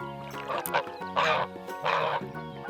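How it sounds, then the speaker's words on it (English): A farm goose gives a couple of loud, rasping honks in quick succession over a steady musical backing. "This is a goose."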